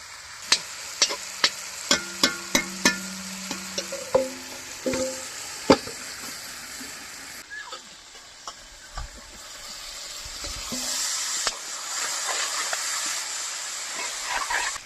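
Meat sizzles in a hot pan for a spiced curry, with a run of sharp clinks and scrapes of the stirring utensil at first, then a steady hiss of frying, close and without talk.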